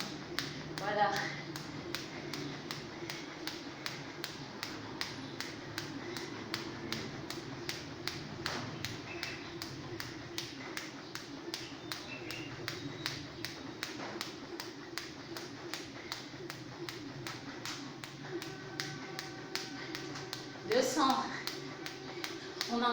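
A jump rope slaps the floor in a fast, steady, even rhythm throughout a 500-jump skipping workout, with light taps under a continuous background hum and a brief louder rustle near the end.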